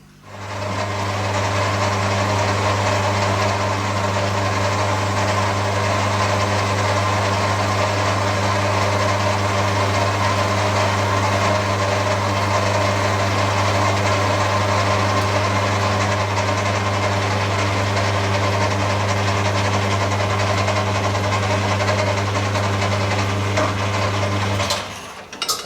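Metal lathe running slowly during a wood-to-metal bandsaw conversion, a loud steady mechanical hum with a constant low tone lasting throughout, stopping abruptly near the end.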